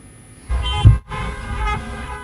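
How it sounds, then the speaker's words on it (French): Car horns blare in a parking lot during a drive-in concert, a loud honking burst that swells, cuts off briefly, then resumes as a sustained din. "Un tonnerre de klaxons"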